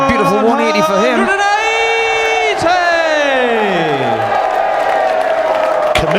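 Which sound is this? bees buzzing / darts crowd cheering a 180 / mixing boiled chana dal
darts crowd cheering a 180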